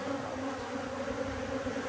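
Honeybees hum steadily in front of a double mating nuc hive, a continuous close-up buzz with no break for two seconds.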